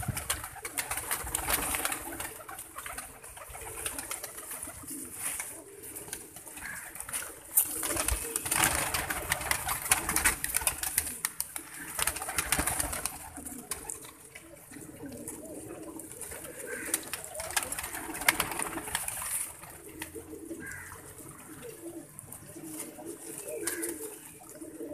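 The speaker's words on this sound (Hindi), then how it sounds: "ये देखें सामने आ रहा है, ये 2 जाग कबूतर हमारे ऐसे हैं।" Several jag pigeons, stiff-bodied show birds, coo amid a busy loft with a constant broadband wash of noise and faint voices in the background.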